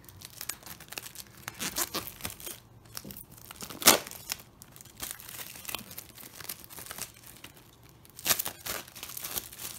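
Plastic and paper packaging being torn and crinkled open on a Madoka Magica movie Blu-ray box set, close up, with irregular bursts of rustling and a few sharper rips.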